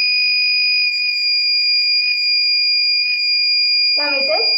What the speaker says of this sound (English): so it is giving over voltage, so buzzer is on